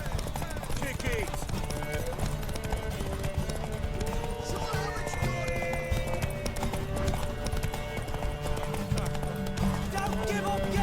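In The Witcher Wild Hunt, a galloping horse pounds out rapid clip-clop hoofbeats throughout and whinnies now and then, with voices talking over the running hooves and a steady music bed underneath.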